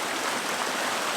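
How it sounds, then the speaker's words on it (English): Creek water in the Tetons flows with a loud, dense, continuous rushing and splashing, close by, with no voices. "Beautiful creek."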